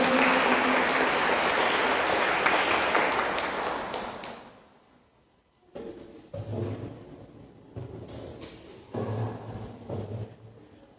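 A congregation at a church gathering claps in a dense, loud burst of applause that swells and then fades out over about four seconds, followed by quieter sounds of the room.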